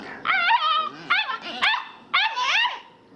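A dog barks and yips in several quick bursts at close range, with a second dog present, while a person talks over the noise.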